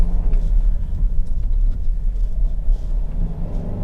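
A 2022 Kia Carnival MPV climbs the hill road up to Genting, heard from inside as a continuous low rumble of engine and tyre noise with uneven surges and no voices.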